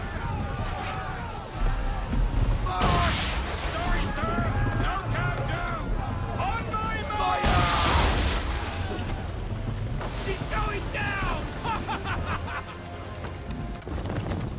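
Ship cannon volleys in Assassin's Creed III, several loud booming blasts at intervals amid crashing waves, creaking and shouting crew voices over a busy naval battle din.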